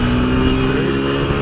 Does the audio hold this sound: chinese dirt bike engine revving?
yes